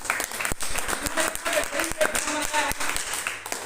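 A crowd at a business gathering breaks into loud applause for the company's managing director, steady clapping mixed with a voice talking over it.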